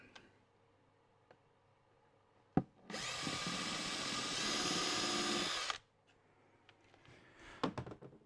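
A power drill bores a hole in wood while hinges are being fitted in a workshop, one steady whirring burst of about three seconds standing out loud and alone between quiet stretches with faint taps and clicks.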